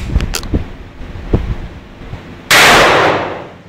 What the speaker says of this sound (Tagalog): Hawak mabuti sa baril. Lalakas yan.